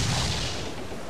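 A ship's cannon fires in Assassin's Creed IV: Black Flag, one heavy booming blast whose rumble dies away over about a second.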